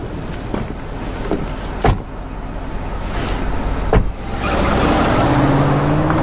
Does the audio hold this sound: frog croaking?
no